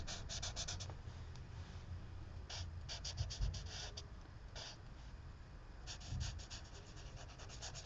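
Chisel-tip marker scratching and rubbing across paper in short bursts, soft and close, with quiet pauses between strokes.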